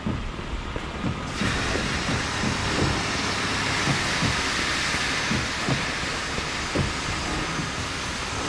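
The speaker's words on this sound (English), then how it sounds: "I'm gonna go start up the train" Steady rumbling and hissing of a train starting up in Mafia II, a continuous broad roar with scattered low clanks, loud and constant throughout with no voices.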